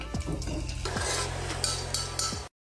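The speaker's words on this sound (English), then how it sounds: "but I'm gonna fry them." Falafel balls frying in hot oil, a steady close sizzle with occasional clinks and scrapes of a utensil against the pan.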